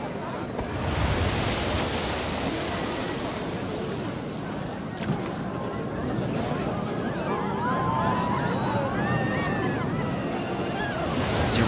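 Fountain water in the Planet Coaster 2 video game splashes high in a continuous broad rushing wash, fairly close and steady throughout, with a person talking over it.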